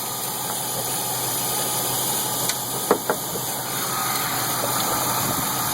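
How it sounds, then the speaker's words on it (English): A Pontiac Grand Am GT engine idles smoothly with a steady low rumble and high hum, broken only by a couple of faint brief clicks. "You can hear the car runs perfect, no ticks, no nothing."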